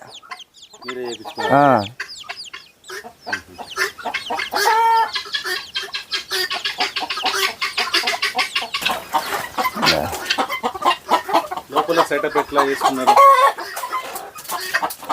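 Several Bhimavaram country chickens cluck and squawk close by, with a rooster-like call early on and a steady jumble of farmyard clucking throughout.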